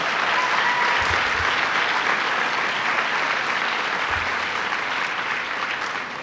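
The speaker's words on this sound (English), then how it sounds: "Let's give him a round of applause" A crowd applauds steadily at a New York Stands with Puerto Rico breakfast, a dense, even wash of clapping that holds loud throughout with no talk over it.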